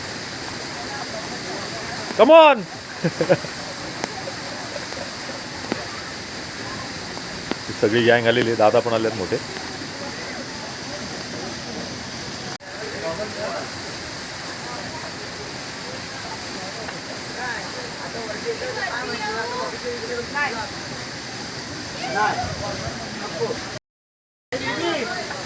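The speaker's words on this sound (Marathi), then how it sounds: "परत जबरदस्त पाऊस चालू झालाय" Heavy monsoon rain pours steadily at Raigad fort, a dense wash of noise throughout, with people talking and laughing over it and a few brief dropouts.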